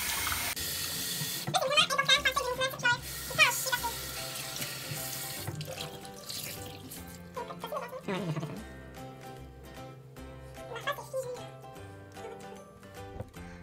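Hot water runs from a bathroom sink tap to rinse off a face mask, a steady splashing stream that changes pitch as hands move through it, with someone talking quietly over the flow.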